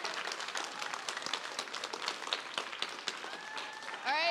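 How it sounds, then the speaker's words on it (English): Audience applause at a board leadership listening session, moderate clapping from a room of people continuing for a few seconds with voices mixed in and a person speaking at the end. "Thank you for the applause."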